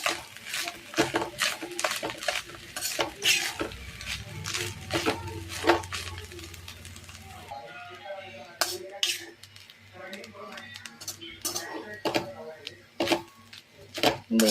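Grated coconut frying in ghee in a pan, stirred with a metal spoon that scrapes and clinks against the vessel in irregular bursts, while a voice talks over the cooking.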